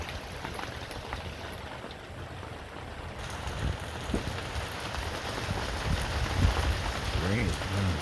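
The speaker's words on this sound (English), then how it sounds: "Rain has been full since about 1 or 2 a.m." Heavy rain falls steadily outdoors on a chilly, near-freezing morning, a dense continuous hiss with scattered drip taps, and someone speaks briefly.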